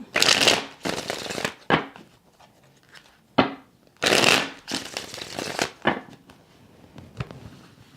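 A deck of tarot cards is shuffled repeatedly at close range, crisp riffling bursts separated by short pauses and soft taps as the cards are squared.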